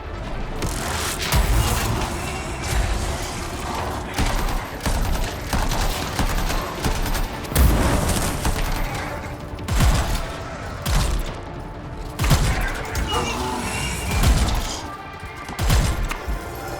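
Gunfire in the PC video game Anthem rattles in loud, rapid bursts and sustained volleys with short gaps, heavy and close throughout.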